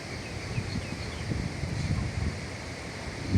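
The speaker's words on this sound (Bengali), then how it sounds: "বৃষ্টি আসতেছে, বাতাস গেল" Wind gusts during a Kalbaishakhi storm, a steady broadband rush with low buffeting rumbles close to the microphone, continuous with no talk.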